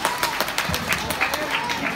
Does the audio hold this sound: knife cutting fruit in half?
no